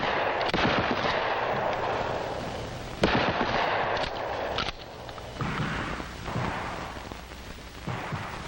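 A shotgun fires at a shooting range during 1965 FBI firearms training: several sharp, loud reports are spaced a second or more apart, each followed by a lingering rumble.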